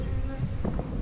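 Honey bees buzz around a hive in a beekeeper's yard, a faint, steady droning hum with a few louder passes of bees close by.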